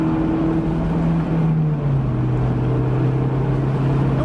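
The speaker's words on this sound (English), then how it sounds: "You want to keep the revs up and keep it in that VTEC." A Honda S2000 AP2 engine drones loudly at high revs in VTEC, a steady buzzing tone that eases slightly lower in pitch partway through, with no talking.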